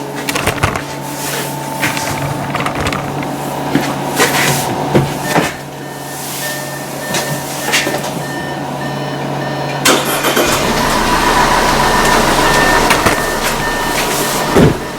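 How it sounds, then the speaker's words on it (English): An Audi Q5 with misfiring cylinders cranks and starts, followed by a rough, loud engine run with clanking knocks and a rising steady drone toward the end. "So now we start a car, we see what's going on."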